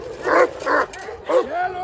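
A Kangal dog from Sivas gives three short barks or yips in quick succession, close by, with someone speaking around it.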